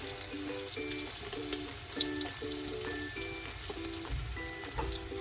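Onions and green chillies frying for chicken biryani, a steady close crackling sizzle running throughout, with faint background tones and a brief low thump near the end.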